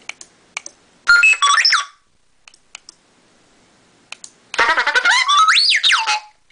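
R2-D2 droid beeps, whistles and warbling chirps play from an MP3 trigger through a small amp, two loud bursts of rising and falling electronic tones separated by sparse clicks and quiet gaps.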